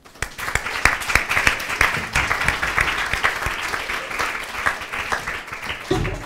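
An indoor audience gives sustained applause for panelists at a program launch, dense clapping swelling quickly then holding steady for several seconds before fading.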